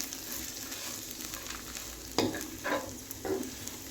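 Okra being stir-fried in a pan with peanut powder: a steady close sizzle with scraping stir strokes, a few sharper clanks of the spatula near the end, no voices.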